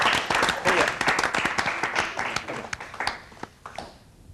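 Audience at a demonstration-based science quiz show clapping for a contestant, a dense burst of applause that thins out and fades toward the end.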